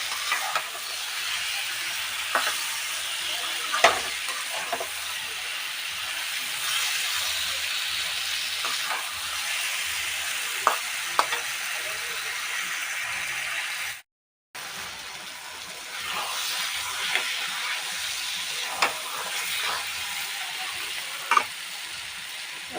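Ridge gourd sautéing in a pan for a dish with water lily stems, shrimp and coconut milk, giving a steady hissing sizzle with occasional spoon scrapes and knocks, a brief silent gap midway, and no speech.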